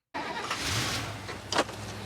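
A car engine kicks in after a brief silence and runs steadily nearby, a low rumbling drone with a short louder surge near the end.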